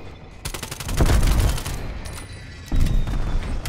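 A strafe run in Call of Duty Cold War delivers loud rapid gunfire in two bursts, a long rattling volley and then a shorter second one.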